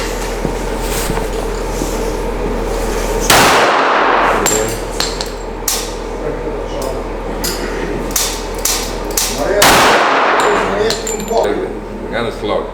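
Soviet guns fired outdoors: two loud, sharp gunshot blasts several seconds apart, each with a rough decaying tail, amid metallic clinks and handling noise, with people talking nearby.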